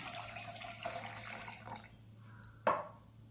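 Water pours into a cooker holding chopped chayote for kootu, a soft rushing trickle that thins out and ends in a faint splash, alone and quiet.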